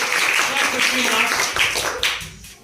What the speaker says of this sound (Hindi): जोर ताली बजा इसके लिए